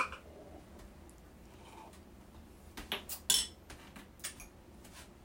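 A spoon stirs stevia into a cup of bulletproof coffee, a few quiet clinks against the cup rising briefly midway through over a faint background.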